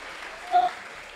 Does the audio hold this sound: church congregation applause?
yes